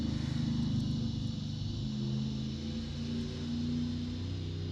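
A loud truck passes by outside, a heavy low rumble that starts strong and eases off slightly as it goes by, steady and continuous over the whole stretch with no talking.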